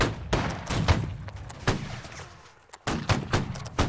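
Musket volleys and scattered shots crack out in a Holdfast: Nations At War line battle. Several sharp reports come close together, some of them heavy, with a short lull before more shots.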